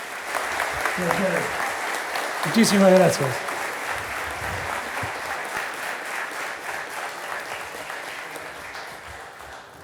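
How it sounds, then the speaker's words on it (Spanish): An audience at an anniversary event applauds a speaker, moderate clapping that swells briefly while a voice speaks over it, then settles into softer continuing applause. "Un fuerte aplauso desde acá."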